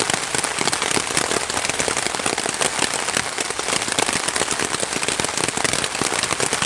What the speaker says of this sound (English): I knew it was going to rain.